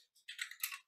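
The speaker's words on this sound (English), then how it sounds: "I'll just type it out here." Quick, faint keystrokes on a computer keyboard, a short run of soft clicks over about a second with no one talking.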